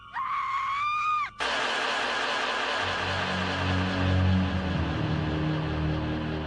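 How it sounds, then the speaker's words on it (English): A loud, sustained scream echoes through nighttime woods in a horror film, then cuts abruptly into a dense, rumbling wash of eerie ambience that swells and lingers. "They ignored the screams that echoed through the woods that night."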